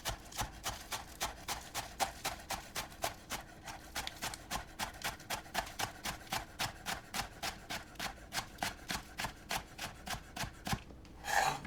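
A knife chops green onion into thin garnish slices on a board: a fast, steady run of sharp, evenly spaced taps, close and clear, continuing without pause and with no talking.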